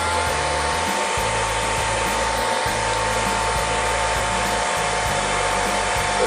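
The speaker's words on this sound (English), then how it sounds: "Get your hairdryer, heat that up." A hairdryer blows continuously at close range to heat a Lenovo K3 Note phone screen held down with double-sided tape during repair, a loud steady whooshing hum with a faint tonal whine and no talk.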